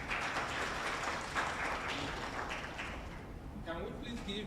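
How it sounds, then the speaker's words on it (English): An audience applauds panelists at a network event, with steady, fairly loud clapping throughout and a voice briefly heard near the end. "Can we please give our panelists another round of applause?"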